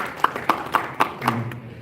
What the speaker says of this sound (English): Big round of applause once the panelists.